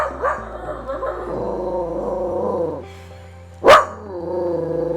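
Frank, a small dog, gives a few scattered barks with one sharp loud yap near the end, under a continuous low steady hum close by.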